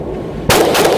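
A Smith & Wesson M&P 15 rifle fires a single loud, sharp gunshot at an outdoor range, the report cutting in suddenly and then ringing out briefly.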